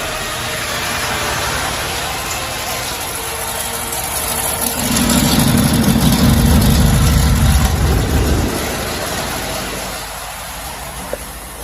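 A Rolls-Royce Silver Spur engine running with uneven timing and running rich, a loud close rough idle that swells into a heavier rumble midway before settling back.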